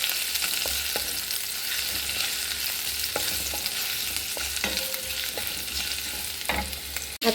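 Garlic fries in a couple of spoons of hot oil in a pan, a steady close sizzle running throughout with occasional scrapes and clicks of stirring, and no voices.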